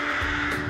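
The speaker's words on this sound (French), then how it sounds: "une invasion de corbeaux au-dessus qui vont croisser pendant toute la vidéo" A crow from a flock overhead in the woods caws loudly and close, a single harsh drawn-out call filling the brief moment.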